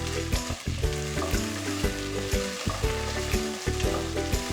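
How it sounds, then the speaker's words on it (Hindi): Fenugreek fried rice frying and stirred in a pan, a loud continuous sizzle broken by quick rhythmic scrapes and clanks of the spatula. "इसको अच्छी तरह से भूनेंगे जब तक ये अच्छी तरह से पक ना जाए।"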